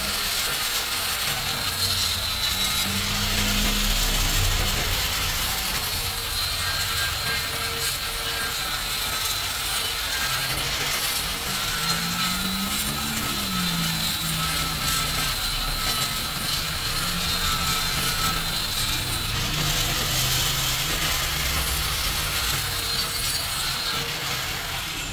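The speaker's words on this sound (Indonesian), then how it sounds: "Untuk pojokan-pojokan ya, itu aman menggunakan flap disc macam ini." A SHARP flap disc on an angle grinder works steel corners, a constant loud abrasive roar with a faintly wavering motor pitch that holds steady throughout without pause.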